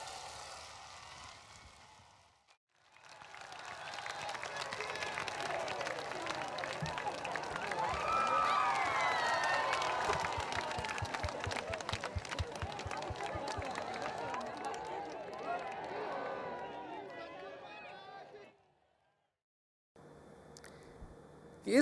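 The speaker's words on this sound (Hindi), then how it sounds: "आइए आप और हम सब मिलकर प्रेरणा 2022 के इस खास मौके पर जोरदार तालियों के साथ स्वागत करते हैं" A large audience at the Prerna 2022 event claps loudly to welcome a speaker, a sustained, dense roar of applause rising to a peak and then fading before a brief silence.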